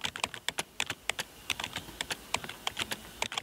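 Rapid keystroke clicks from typing Korean on a smartphone keyboard, a steady run of sharp close-up taps with uneven rhythm and no talking.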